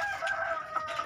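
Hens in a freshly tidied backyard coop, young layers not yet laying, cluck and crow in short bursts over a steady background hum, fairly near and moderately loud.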